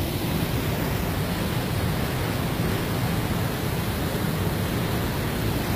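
A powerful waterfall in Scotland with a strong current, a loud, continuous broadband roar of falling water with no gaps, heard up close and alone.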